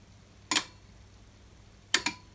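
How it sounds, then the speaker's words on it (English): A relay in a CNC machine's low-voltage control system clicks when switched, two separate sharp clicks, the second a quick double snap, close and clear against quiet background hum. "the relay will click."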